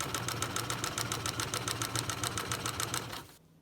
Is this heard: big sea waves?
no